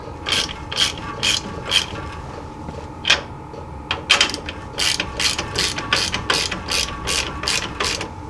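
Rapid clicking of a ratchet snugging up half-inch U-bolts during a 3-inch lift install on a 1978 Jeep J10, close and crisp in repeated bursts of pawl clicks with short pauses.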